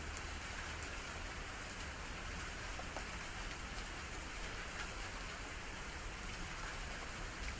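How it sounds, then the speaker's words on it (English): Steady rain falls continuously, a dense even patter of drops on surfaces with no pauses, fairly close and moderately loud, with no voices over it. "It is still raining, but it's gotten better than before."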